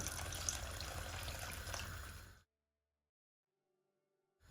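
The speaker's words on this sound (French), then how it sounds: "on rajoute sur cette sauce l'équivalent à peu près de 150 ml d'eau froide" Cold water poured into a courgette tajine sauce, a steady close pour and trickle lasting about two seconds, then silence with a faint knock at the end.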